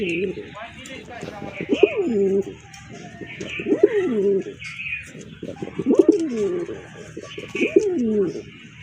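Large domestic pigeons coo up close in four rhythmic bouts about two seconds apart, each a rolling, throaty coo.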